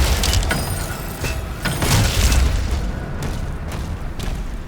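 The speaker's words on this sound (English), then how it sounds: "One of these tanks I need to take out. Rocket launchers are so overpowered." Rocket launcher explosions in Doom The Dark Ages boom loudly and continuously, with several heavy blasts and crackling debris layered over a dense roar of game action.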